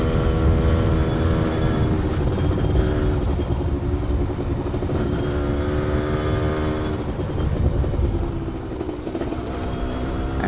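A Yamaha F1ZR motorcycle on a test ride, its rebored engine fitted with a new oversize piston, drones loudly and steadily close by, rising and falling slightly in pitch as the throttle changes, then easing off near the end.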